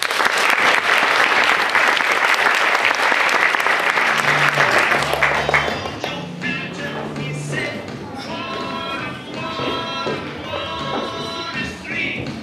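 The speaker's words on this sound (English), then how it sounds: "applause." Audience applause after a fifth-grade school play, loud sustained clapping that thins out midway as a voice begins speaking over the fading claps.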